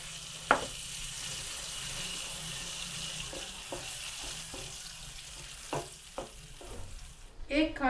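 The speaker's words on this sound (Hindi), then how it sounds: "मिर्चें वगैरह भून गई हैं, तो अब इसमें डालनी है हमने सब्जियाँ। इसमें अब आप इसको मीडियम फ्लेम पे अच्छी तरह से पका लें" Chilies and vegetables frying in a pan for a samosa filling, a soft continuous sizzle with occasional spoon clinks and stirring scrapes, a brief clatter near the end.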